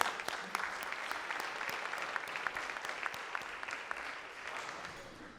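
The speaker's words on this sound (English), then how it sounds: "Let's give them a nice round of applause." A luncheon audience gives moderators and panelists a warm round of applause, a continuous spread of claps with sharp individual hits that slowly tapers off.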